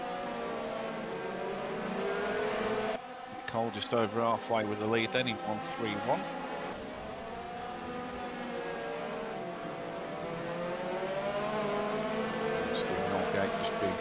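Race cars in a sim racing video game drone and whine steadily through a field of battling cars, with a brief cluster of sharper engine revs and shifts near the middle, under continuous commentary.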